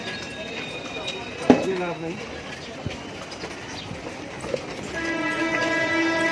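Metro train running along an elevated line near Dum Dum station in Kolkata, a steady rumble heard from a moderate distance beneath a busy street market, with sharp clacks and a rising electric whine near the end.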